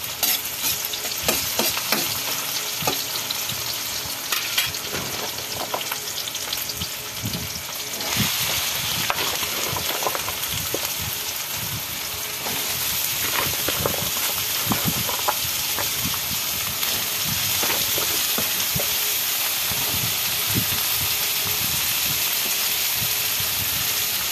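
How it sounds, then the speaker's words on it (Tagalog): Vegetables fry in a pan with a loud, steady hissing sizzle, broken by frequent scraping and clattering strokes of a spatula as they are stirred. "Haluin lang natin konti"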